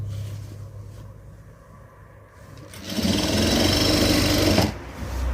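A sewing machine stitches a yoke piece onto a skirt, starting after a quiet pause and running loud and steady for about two seconds before stopping abruptly.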